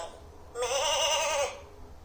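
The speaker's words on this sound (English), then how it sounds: "The lamb is a baby sheep." A lamb's bleat played from a button-press farm animal sound book, one wavering call of about a second, clear and close against a faint background.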